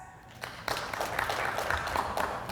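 An audience at a self-confidence talk claps in response to a prompt, with a burst of scattered applause that builds after a quiet start and carries on unevenly, moderately distant.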